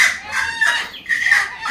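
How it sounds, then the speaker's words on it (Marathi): Brooding hens sitting on eggs cluck close by in a short run of throaty, rising calls, loud and clear with no one talking. "माझ्या 5 कोंबड्या आहे ना बसवल्यात अंड्यांवरती"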